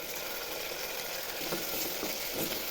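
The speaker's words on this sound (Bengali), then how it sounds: "এবার আদা রসুন লঙ্কা টমেটো জিরা বাটা দিয়ে দেবো," A paste of ginger, garlic, chili, tomato and cumin fries with onions for a duck curry, giving a steady, even sizzling hiss throughout.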